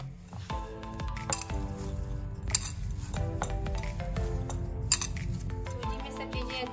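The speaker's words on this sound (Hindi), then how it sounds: "सब चीज़ों को अच्छे से मिक्स करेंगे" Chopped chillies, onion and coriander being mixed into semolina in a metal bowl, with repeated clinks and scrapes of a spoon against the dish and soft squishy stirring, close and moderately loud.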